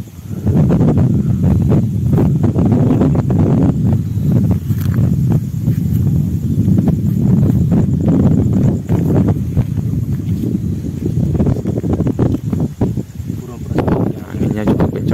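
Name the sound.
strong wind blowing at a hilltop temple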